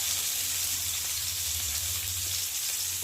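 Sliced eggplant frying in a small amount of oil gives a steady, close sizzle with a soft hiss, holding an even level without pause and with no talk.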